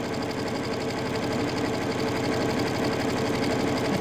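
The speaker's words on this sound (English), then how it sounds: "So now I'm going to cut it on my sewing machine" A sewing machine stitches steadily, its needle chattering in a fast, even mechanical rhythm up close, with no talking.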